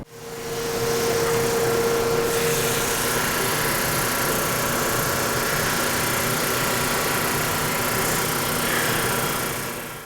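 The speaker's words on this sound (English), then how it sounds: "I'm going to put this through the drum sander. I've got an 80 grit drum in there." A drum sander fitted with an 80 grit drum sands resawn cherry veneer, a loud, steady mechanical whir and grinding that runs without a break for about ten seconds.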